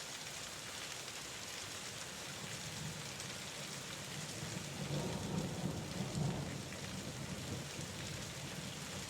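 Steady rain pours down as a dense, even hiss, while a low rumble of thunder swells near the middle and then fades; no voices.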